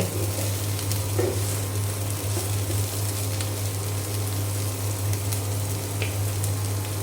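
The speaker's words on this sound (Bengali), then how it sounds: "ফুলকপি ভাজিটা হয়ে গিয়েছে, আমি এখন নামিয়ে নেব।" Cauliflower frying in oil in a pan sizzles with a constant crackle over a steady low electrical hum, with occasional soft clinks and no speech.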